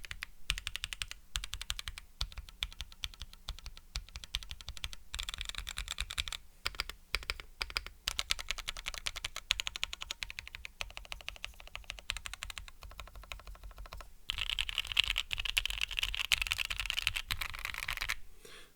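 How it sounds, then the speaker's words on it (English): Fast typing on a mechanical keyboard fitted with switches like SP Star Polaris Grays, close and crisp, a dense rapid stream of high-pitched clacks with lively upstrokes, pausing briefly now and then before resuming louder, with no talking. "these switches, similar to SP Star Polaris Grays, have that very high pitch and lively upstroke sound to them"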